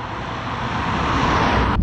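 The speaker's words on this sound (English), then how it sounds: "At idle, this diesel engine is really loud and rattly." A 2017 Volvo S60 D4 diesel with a Polestar tune idles loud and rattly, a steady close engine drone that swells slightly over a couple of seconds before cutting off abruptly.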